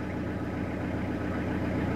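Renault Master van engine idling in a steady low, even rumble heard up close from start to finish, with no talking over it.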